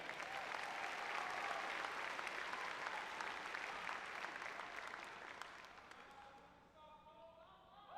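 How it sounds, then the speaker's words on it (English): A large audience applauds at a UCLA student-athlete graduation ceremony. The clapping is sustained and dense, then thins and fades toward the end while a few voices rise over it. "180, that's a round of applause for that."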